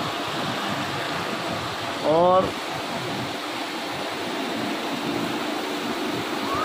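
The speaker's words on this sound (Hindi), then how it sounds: "मूसलाधार बारिश है" Heavy downpour in Karachi hisses on continuously, with a voice briefly cutting in for a single word partway through.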